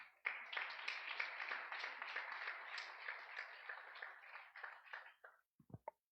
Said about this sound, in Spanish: Vamos a dar un aplauso a nuestro Padre.